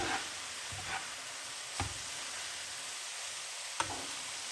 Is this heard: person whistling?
no